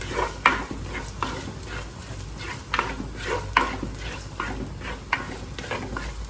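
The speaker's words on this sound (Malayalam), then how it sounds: "സവാള കുഞ്ഞായിട്ട് അരിഞ്ഞരിഞ്ഞ് വെച്ചേക്കുന്നേ, അത് ഇട്ട് കൊടുക്കാം." Chopped onion sautéing in a pan for a curry of amaranth greens and taro, with periodic scraping stir strokes over a low, steady sizzle, close and moderately loud, no talking.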